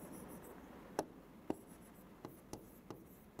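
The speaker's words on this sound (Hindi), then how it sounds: "साथ ही साथ लिख देते हैं यहां पर" Chalk or marker writing on a board in a quiet classroom setting, a few sharp taps and short strokes spaced irregularly, faint and close.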